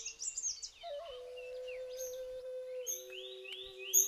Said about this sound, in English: the songs of the Malabar whistling thrush, singing well before sunrise with its wonderful whistles